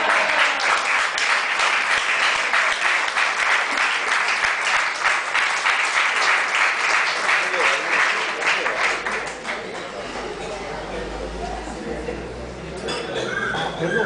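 Audience applause at a literary café gathering, dense steady clapping filling the room for about nine seconds before thinning out, with a few clinks of glasses and cutlery and background voices underneath.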